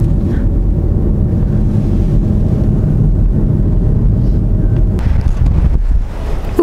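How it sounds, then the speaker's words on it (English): Strong wind buffeting the microphone on the high mountain tundra of Rocky Mountain National Park, a loud, continuous roar with no talking. "Oh, it's windy up here."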